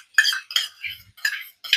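A spoon clinks against a dish during cooking: four or five sharp, bright metallic taps in quick, uneven succession, close and fairly loud.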